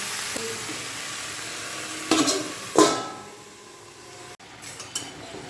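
Fish slides into hot oil in a pan and sizzles steadily, with two sharper hissing bursts as pieces go in, a light clink of utensils, and a brief dip in the sizzle near the end.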